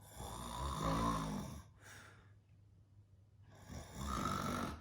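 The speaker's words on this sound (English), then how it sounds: "Mrs. Bear began to snore." Two slow, rumbling snores, each a long rattling breath with a quiet pause between them, close and fairly soft.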